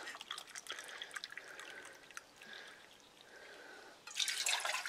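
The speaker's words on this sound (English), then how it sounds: "So we're going to put 2 cups of water in here" About two cups of water poured into a pot set on a Herui folding wood stove: faint, uneven trickling and dripping that swells into a brighter splashing burst at the end.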